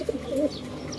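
Racing pigeons in a loft after a race lap in Samar, Philippines, give a couple of soft, low cooing calls within a second, fairly close and moderately loud, with faint chirps around them.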